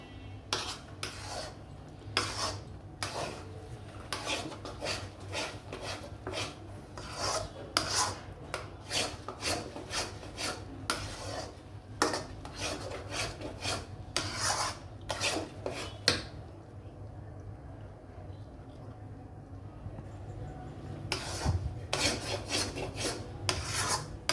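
Chickpea dal halwa stirred and fried in oil in a pan, a ladle scraping the pan bottom in a steady run of rasping strokes that carry on throughout, close and moderately loud, with no talking.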